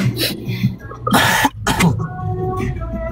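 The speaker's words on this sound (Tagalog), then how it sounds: "Grabe ubo mo bro" A person coughs hard several times close by, rough harsh bursts separated by brief gaps, with a faint murmur in the background.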